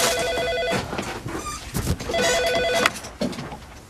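An old-style telephone bell rings in short trilling bursts, twice in a row, then the ringing cuts off as the receiver is picked up, with some handling noise in a room.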